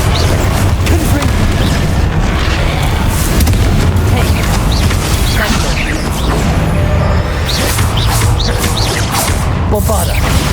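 Heavy booming blasts from the Confringo fire spell in Hogwarts Legacy's final boss fight, loud rumbling explosions and crashes piling up continuously, with shouted spell incantations over them.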